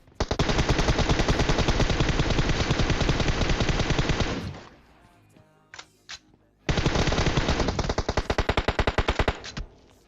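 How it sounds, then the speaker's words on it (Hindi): Automatic gunfire in the video game PUBG comes as two long, dense, rapid bursts, loud and close. A short gap with a few scattered shots separates them, and no one speaks. "थोड़ी गोलियां भी बर्बाद कर देता हूँ।"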